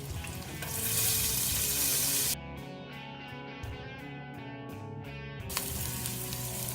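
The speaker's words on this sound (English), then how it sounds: "our bacon's almost done. Starting to get crispy, so at this point, we're going to go ahead and add in our onions." Crispy bacon and freshly added onions sizzle loudly in a frying pan, a steady close hiss that briefly breaks into rapid clicking pulses before the full sizzle returns.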